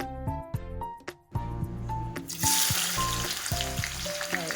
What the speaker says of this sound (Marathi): कांदा छान गोल्डन ब्राऊन व्हायला लागलेला आहे